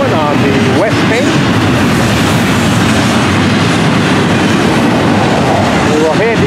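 A southbound Florida East Coast intermodal freight train rolls past close by on the west bank, a loud continuous roar of wheels with rhythmic clatter and occasional brief squeals, and a voice talks over it.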